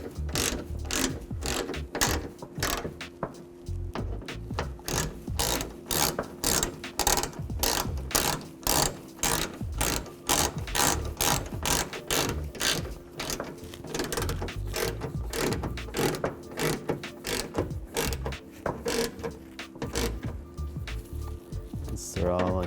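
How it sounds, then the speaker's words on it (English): A hand ratchet tightening bolts evenly, giving a fast, steady train of sharp metallic clicks in rhythmic bursts that run continuously and close up. "I'm going to tighten them down evenly first."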